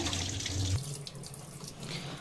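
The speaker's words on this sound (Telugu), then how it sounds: "ఈ నీళ్ళన్నీ పడేసేయాలి. వంపేసుకుంటున్నాను అంతా వాటర్ అంతా." Water tipped off washed poha (flattened rice): a close, steady splashing stream that eases into a lighter, continuous trickle and patter.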